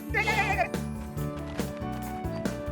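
A goat bleats in a quick wavering cry at the start, over a steady, bouncy children's song with a bass line that continues to the end.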